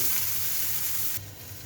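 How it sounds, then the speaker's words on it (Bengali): Eggplant fries in hot oil, giving a loud, steady close-up sizzle that eases slightly partway through. "বেগুনটা ভালো করে ভেজে নিব, খুব সুন্দর করে।"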